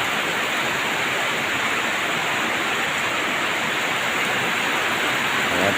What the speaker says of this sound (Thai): ฝนนะครับตกมากเลย